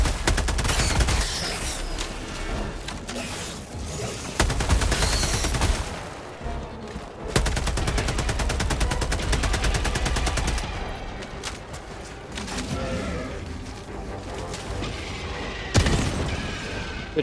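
Sustained gunfire and booming grenade blasts in Helldivers 2 during a bug mission, with dense rapid shots throughout, louder bursts around a few moments, and no voices.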